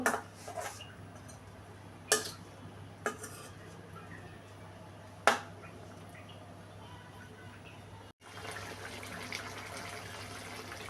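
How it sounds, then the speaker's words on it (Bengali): Hilsa fish pieces being turned in spice masala in a pan, made without onion, with a few sharp spatula scrapes and clinks against the pan over a steady low kitchen hum, with no one speaking. "সব মাছ দিয়ে দিলাম এবার প্রথমে একটু উল্টি পাল্টিয়ে কষিয়ে নিব"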